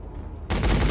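Burst of rapid automatic gunfire from infantry units in the Warhammer 40K: Battlesector strategy game, erupting abruptly after a quiet moment and continuing loud and dense to the end.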